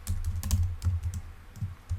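Computer keyboard keys being typed in a quick irregular run of clicks, close and fairly soft, with no talk.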